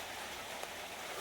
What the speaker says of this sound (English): it's raining, so.